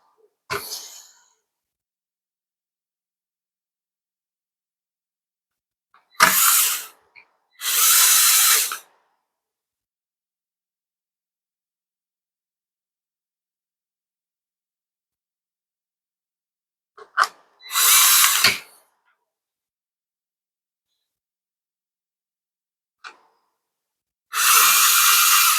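A power drill drives screws into a Dyson V-series vacuum Motorbar in short, loud whirring bursts of a second or two, separated by long silences.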